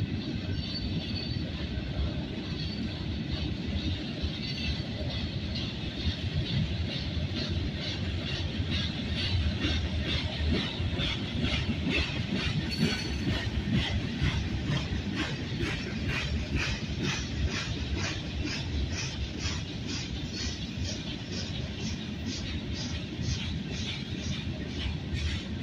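CSX freight train M649, led by an SD70MAC and an ET4 locomotive, rolls past at Paradise Park in Thomasville, Georgia, with continuous loud rumbling, rhythmic wheel clatter over the rails and occasional faint squeals.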